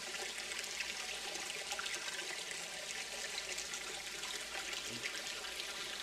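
Creek water flows steadily in the Firewatch video game, a continuous close rushing and trickling with no talk over it.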